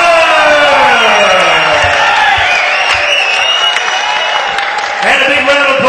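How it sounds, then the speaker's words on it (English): Crowd at a boxing fight night on the docks breaking into loud applause and cheering, dense clapping with whoops, with an announcer talking over it through a PA. "And a big round of applause for a gun warrior, Daniel Porky Lovett"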